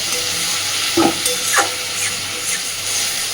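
Onions and garlic frying in a pan for a Bengali lote fish curry, a steady close sizzle with a couple of brief stirring scrapes, no voices.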